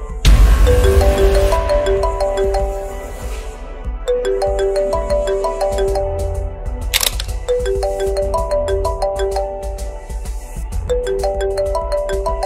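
A mobile phone rings for an incoming call, its repeating melodic ringtone phrases cycling loudly and clearly over several seconds, with a brief crackle near the start.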